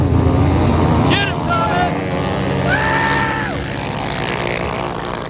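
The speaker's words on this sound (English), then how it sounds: "we found out what kind of torque this engine makes" A home-built 100hp crosskart engine revs and drives, its loud whining note rising and falling under wind buffeting, with people shouting and talking over it.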